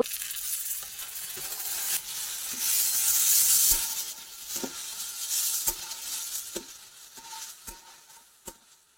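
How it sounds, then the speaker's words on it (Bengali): Onions fry in hot oil in a home kitchen pan, a steady hiss of sizzling under repeated clinks and scrapes of a spoon stirring against the pan. "এই যে তেলের মধ্যে পেঁয়াজ ভাজছি"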